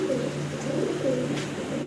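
A pair of dragon homer pigeons coos steadily, low throaty warbling rolling on without pause, close and fairly loud, with no talking over it.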